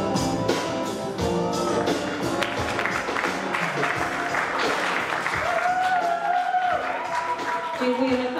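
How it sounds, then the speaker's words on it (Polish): An audience at the Miss Polonia USA 2016 pageant applauds the candidates with a continuous patter of clapping, mixed with music and a host's voice. "Duże brawa dla naszych kandydatek."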